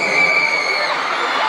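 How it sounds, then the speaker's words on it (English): A large concert crowd at a show screams loudly and continuously, a dense, sustained roar of cheering with no pauses. "On three, you're gonna scream as loud as you possibly can."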